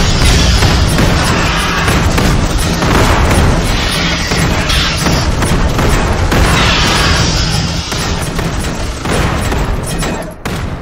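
Dense, loud game gunfire from troopers in Starship Troopers Terran Command, a sustained barrage of booms and rapid shots layered into continuous battle noise across the whole stretch.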